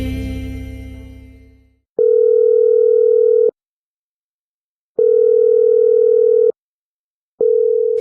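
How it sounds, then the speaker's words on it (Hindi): A telephone ringback tone for an unanswered call repeats in long steady beeps separated by silent gaps, following a brief fading low hum at the start. "सुबह से फोन लगा रही हूँ पर उठा नहीं रहे"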